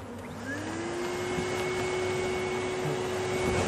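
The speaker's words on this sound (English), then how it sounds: "allows us to use a hoover to suck up the bees as if you were doing your normal housework" A Hoover vacuum cleaner sucks bees up from a beehive through its tube, giving a steady close whine and roar with a constant pitched hum that builds slightly in loudness.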